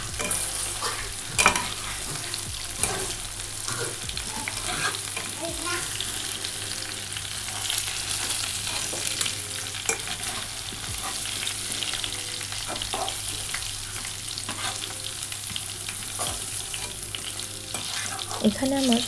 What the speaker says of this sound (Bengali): এখানে আমি সব ভেন্ডিগুলো ভেজে নিয়েছি